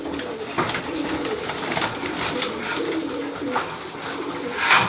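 Pigeons kept in a home loft, restless from not being handled for a long time, coo steadily with bursts of wing fluttering scattered throughout, close and moderately loud with no talk.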